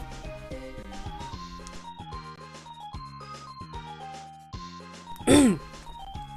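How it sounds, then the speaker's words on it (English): A single short cough bursts out near the end, over bright, steady chiptune-style music from a Mega Man X game playthrough. "Sorry, I had to cough."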